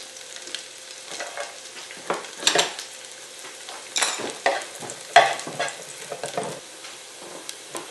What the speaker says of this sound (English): Saute for about a minute or two.